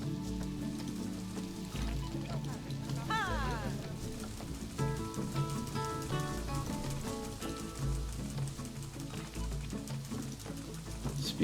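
Steady rain in the zoo-building video game Planet Zoo, a constant patter of drops on surfaces with occasional bird calls and soft game music tones layered through it.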